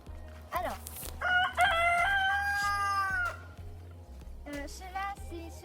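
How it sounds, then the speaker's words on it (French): A rooster crows loudly nearby, followed by short clucks from a Gauloise hen, over a steady low mechanical hum. "Cette petite poule, c'est une poule gauloise."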